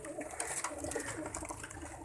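Pigeons kept for pigeon flying in Pakistan, among a group of fifty or sixty birds, coo softly and continuously at close range in overlapping murmuring calls, with no talking.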